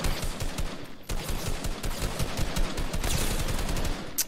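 Rapid bursts of automatic gunfire and scattered single shots from a mobile shooter video game fill the clip, loud and dense with only brief pauses, and no voices over them.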